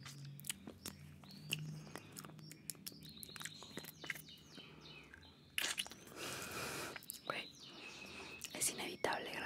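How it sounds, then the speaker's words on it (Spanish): Small birds chirping outdoors, faint sharp tweets scattered through the background beneath close whispering and soft chewing of a Mexican tamarind candy. "inevitable grabar con los pajaritos"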